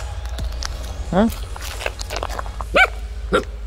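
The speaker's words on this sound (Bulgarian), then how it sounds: "Ти ли лаеш?" A dog barks on a cloudy mountain ridge as rain begins, three short barks at moderate distance with footsteps and faint outdoor noise between them.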